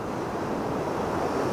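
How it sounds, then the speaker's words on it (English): Ocean waves roll and spray in front of New Brighton Pier at sunrise, a steady, dense wash of surf with wind noise buffeting the microphone, continuous and fairly loud throughout. "those beautiful sea spray waves I was talking about earlier are just starting to get in front of the pier"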